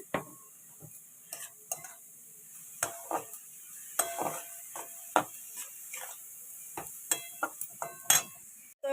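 Ginger paste and home-roasted cumin powder stirred and fried in a pan, with repeated scraping and clinking of a utensil against metal over a faint continuous sizzle, close and moderately loud.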